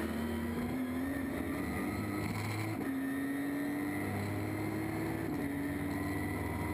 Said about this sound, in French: Et on vous emmène d'ailleurs à bord de cette Ginetta